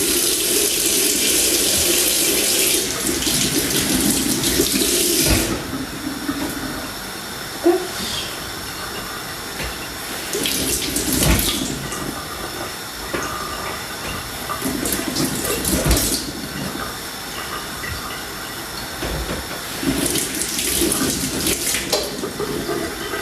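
Tap water runs steadily into a kitchen sink as vegetables are rinsed, the flow swelling and dropping in bursts with a few clinks, fairly close and with no talk over it.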